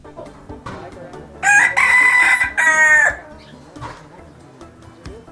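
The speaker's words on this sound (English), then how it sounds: "There's even an old setting hen in the chicken house." Setting hen in a chicken house, loud close cackling and crowing-like fowl calls in a sustained burst lasting a couple of seconds, with faint background sounds before and after.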